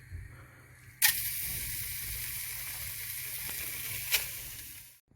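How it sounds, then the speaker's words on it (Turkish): Meat for kavurma dropped into a hot pot: a sudden loud sizzle that settles into a steady, close hiss, with a brief flare later, then fading out. "Şöyle kızgın tencereye etlerimizi koyuyoruz ve yaklaşık 5 dakika et hafif suyunu salana kadar hiçbir şeyine dokunmayacağız"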